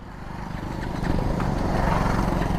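A BMW 310R motorcycle's single-cylinder engine thrums steadily at a low idle as first gear goes in, its pulsing beat close and even and gradually growing a little louder.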